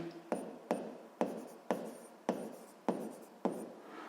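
Chalk or pen scratching out a Hooke's law physics problem solution, seven crisp stroke-like attacks at roughly half-second intervals, each with a short scraping tail, close and alone without talk.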